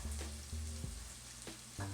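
Sweet peppers sizzle in olive oil and butter in a hot pan, a steady close frying hiss with a few soft stirring clatters and no voices.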